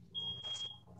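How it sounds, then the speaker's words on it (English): A smoke detector gives a single shrill, steady low-battery beep indoors, close and clear above a quiet room hum, with no talking. "Who needs a new battery or smoke detector?"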